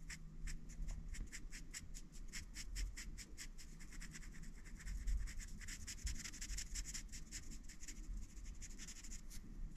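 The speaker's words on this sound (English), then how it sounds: "Especially since it's black. You just draw that in." A marker scribbles over a mistake on printable vinyl, making a steady run of quick, faint, close scratchy strokes against a low background hum, with no talk.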